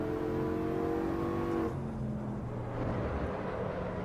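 A race car engine in the Assetto Corsa Evo driving game revs high and steady, then drops sharply to a lower, rougher drone as the car shifts or lifts off, loud and close with no talk.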